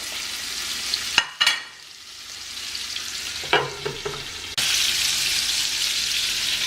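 Chopped hot link sausage drops into melted butter and oil in a pan, bursting into loud close sizzling with a few clunks and scrapes, then settling into a steady bright frying hiss.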